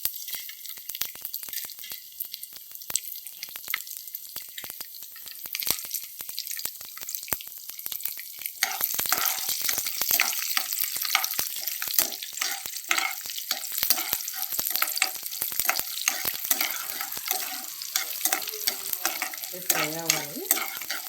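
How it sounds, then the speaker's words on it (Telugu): Tempering spices hit hot oil and crackle into a dense sizzle, sparse pops at first building into a busy, close spatter with stirring scrapes for the remaining stretch, no voices. "ఆయిల్ హీట్ ఎక్కినాక పోపు దినుసులు వేసుకోవాలి"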